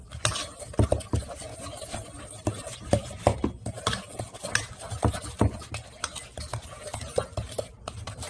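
Sugar is stirred into a cookie bar mixture, the spoon making steady, rhythmic scraping and soft thudding strokes up close, with no talking.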